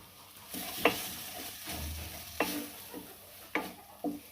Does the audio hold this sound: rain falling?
no